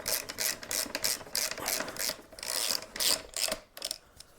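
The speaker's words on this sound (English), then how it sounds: "And then we'll do these bolts up." A ratchet tightens bolts on an Ultra Bee dirt bike during a primary chain conversion, producing quick close bursts of rapid clicking separated by short pauses, with a faint scraping between strokes.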